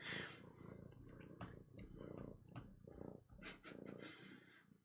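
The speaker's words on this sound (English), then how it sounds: "Oh, yes, very loud purrs." A cat purrs in a low, rumbling rhythm close by, with soft snuffling breaths and a few faint clicks.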